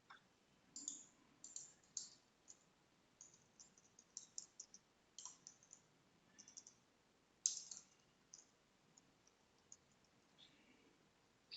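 Sparse, faint computer mouse clicks, single and double, scattered through a quiet room while setting up a SQL Server home lab on Azure virtual machines; no one speaks.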